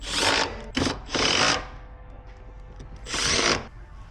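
A power driver runs screws into the legs of a Husky adjustable worktable in three short whirring bursts, close and loud, with quiet pauses between.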